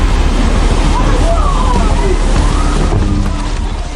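A massive tsunami wave surges ashore, a continuous loud roaring rush of churning water and spray with no break, filling the whole scene.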